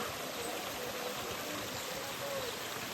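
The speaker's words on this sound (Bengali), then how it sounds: "দেখো ঝর্ণার জল পড়ছে।" Constant rushing of a waterfall at Panchalingeswar temple, a dense, steady roar without pauses, heard from nearby.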